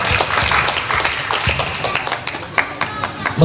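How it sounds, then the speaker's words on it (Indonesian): An audience at an Islamic boarding school graduation ceremony for calligraphy, fiqh and tasrif graduates claps, a lively spread of claps that slowly thins out into scattered last claps. "Beri aplaus yang meriah untuk para calon wisudawan wisudawati."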